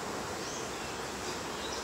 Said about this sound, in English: These bees are getting a little bit agitated, Wilma